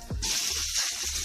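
Vellai adai, a white rice pancake from Indian village cooking, sizzles and fries crisp on a hot pan in a steady, close hiss with a brief low scrape near the start and end.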